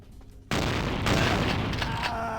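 Shotgun blasts from the video game Vampire: Bloodlines, a sudden loud booming report followed by a dense, sustained wash of close, heavy gunfire noise.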